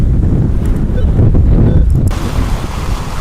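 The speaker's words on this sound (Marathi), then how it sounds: "अरे वारा बघा झाले. पाऊस आला" Strong wind roars across the microphone at Achara beach during a sudden rain shower, a loud and constant rushing that eases slightly after a couple of seconds, with surf churning underneath.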